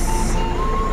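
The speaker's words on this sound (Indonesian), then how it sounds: "Masuk lagi bus ANS" An ANS intercity bus rumbles into a terminal, its steady reversing beep tone sounding loud and close over the low engine drone.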